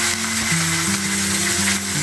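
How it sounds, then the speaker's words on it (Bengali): Chopped onions fry in a pan with cinnamon and cloves over medium heat for a potato curry, a steady close sizzle with a low humming tone running underneath, no voices. "পেঁয়াজ কুচি দেওয়া হলে এখন আমি এগুলো ভালোভাবে ভেজে নিব"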